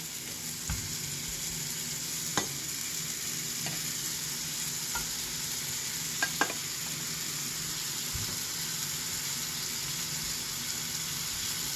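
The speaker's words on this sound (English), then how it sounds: "I bumped the heat up on the skillet. We're just going to put our patties in there." Burger patties fry in a hot skillet on raised heat, giving a steady, even sizzle throughout with a few faint clinks and taps from the pan.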